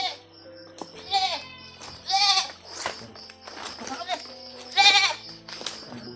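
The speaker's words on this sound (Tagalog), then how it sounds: "Medyo maingay yung kambing." Goats bleat repeatedly nearby, several loud wavering calls spread across the stretch, with people talking in between.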